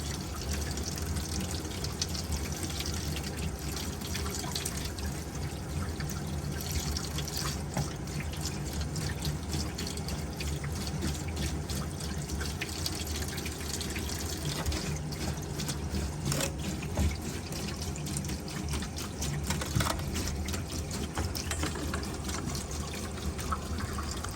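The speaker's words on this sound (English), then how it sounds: "Sounds like he's splashing it pretty good" Water splashing steadily in a tub/shower after a leak repair, a continuous broadband rush with no pauses, fairly close and uninterrupted throughout.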